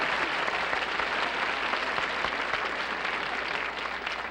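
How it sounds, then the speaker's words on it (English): Applause from a studio audience at a 1967 Columbia Broadcast variety show fills the room as a dense, steady wash of clapping that holds level for the whole stretch, with no voices. "it's not much to applaud about"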